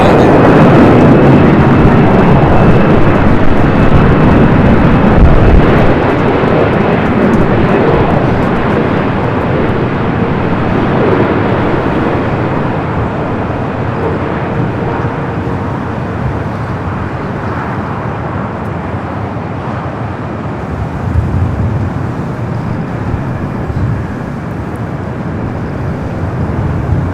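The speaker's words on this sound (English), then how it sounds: "Green Air Flight 11 coming in from Seoul, the 747-8 Intercontinental next arrival" A Boeing 747-8 Intercontinental airliner arriving from Seoul at LAX, a loud, sustained jet rumble with a steady hum that slowly fades, alone without talk.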